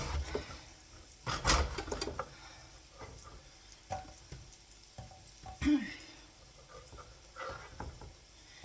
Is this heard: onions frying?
yes